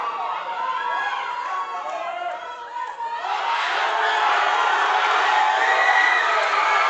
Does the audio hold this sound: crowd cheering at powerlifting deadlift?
yes